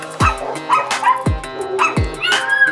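Several dogs at an animal shelter bark close by in sharp, repeated yips and barks about once a second, with whimpering between them.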